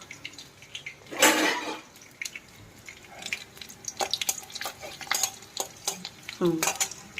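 Kalonji and chilies fry in hot oil while a spatula scrapes the pan: a constant low sizzle broken by one loud burst of crackle and several sharp metallic strokes, close by with no talking.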